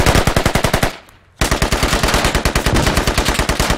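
Rapid automatic machine gun fire in the Squad combat game, a steady loud rhythm of evenly spaced shots broken by a short pause before the burst resumes, with no voices.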